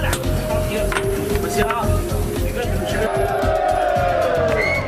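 Crowd cheering and whooping as workers reappear from a drilling tunnel at a massive Icelandic dam construction site, a dense roar of voices with narration over it.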